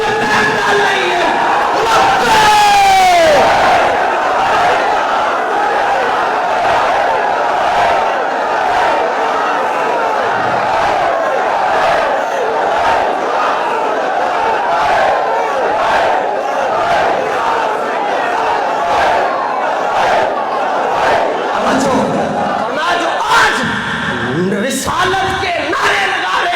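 A large crowd at an Islamic religious gathering loudly shouts and chants devotional slogans in bursts, roaring voices filling the space with a lead voice calling out over them.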